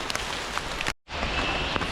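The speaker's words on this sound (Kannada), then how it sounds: "ಈಗ ಮಳೆ ಬರ್ತೈತೆ" Rain falls steadily in monsoon weather around Madikeri, a dense broadband hiss with scattered drops, cut by a brief near-silent gap before the downpour resumes.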